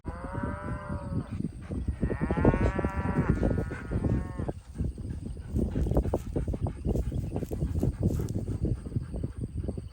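Cattle mooing in a ranch pasture: a few loud, drawn-out moos close by in the first four seconds, then steady rustling and shuffling from the herd.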